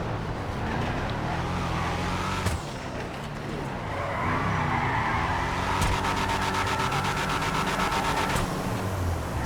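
A Declasse Yosemite drift truck drifts in GTA V, its engine revving and shifting pitch while tires squeal and skid continuously, loud and close throughout.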